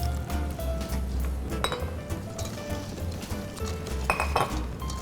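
A utensil clinks against a mixing bowl while cupcake batter is stirred in a kitchen, bright metallic taps and scrapes repeating unevenly over a low hum, close and loud, with no talk.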